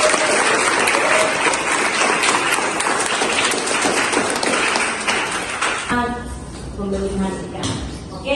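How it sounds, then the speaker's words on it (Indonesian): A class of students applauds, a dense burst of clapping that fills the room and then thins out, followed by murmured voices and room noise. "Tepuk tangan."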